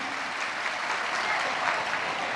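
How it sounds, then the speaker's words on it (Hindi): An audience at a Shiv Mahapuran religious discourse gathering in Varanasi gives a guest sustained, dense applause, a steady wash of many hands clapping throughout. "एक बार जोरदार ताली बजाकर स्वागत वंदन अभिनंदन है।"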